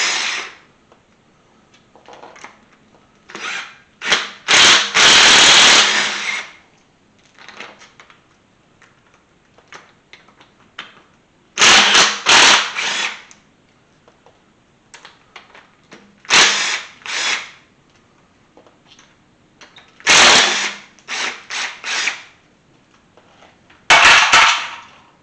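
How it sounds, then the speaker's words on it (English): Intake removal on a Chevy small-block 307 engine: bursts of power-tool whirring on bolts alternate with metallic clanks and ratcheting, separated by quiet pauses, loud and close. "I'm gonna yank this intake off"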